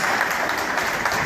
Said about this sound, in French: Applaudissez pour la délivrance.